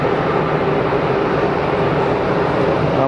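A plane takes off at Geneva Airport, its engines a loud, dense, steady roar that holds at full strength throughout.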